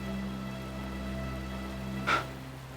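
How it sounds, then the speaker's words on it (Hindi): Steady rain falling outdoors makes a soft, continuous hiss throughout, with one brief louder splash or patter near the end. "बाहर बारिश गिर रही है।"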